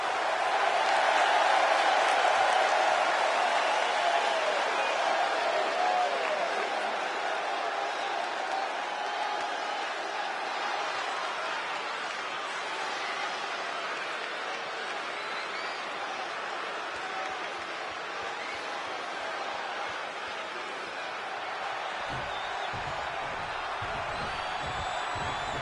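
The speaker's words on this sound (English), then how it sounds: "The crowd is into this guy, man." A wrestling arena crowd in WWE 2K26 cheering and applauding in a steady, loud roar that swells at the start and then holds, with a dense wash of noise, faint whistles and a few thuds near the end.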